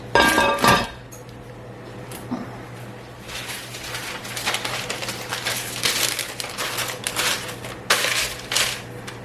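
Heavy Dutch oven holding sourdough buns is slid back into a hot oven: an opening clatter and clink of metal, then a run of scraping and rattling clanks close by, with a steady low hum underneath.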